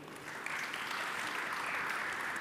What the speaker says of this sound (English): Let's give an applaud to the committee as well.